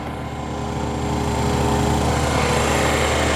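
Vacuum cleaner running steadily inside a minivan during a mobile detailing job, a loud continuous motor whine and airflow roar close by, constant throughout with no talking.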